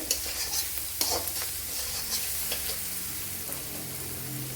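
Onions are stirred and sautéed in a pan, giving a close, steady sizzle with repeated scraping strokes of a spatula, especially a sharp scrape around one second in, and no speech.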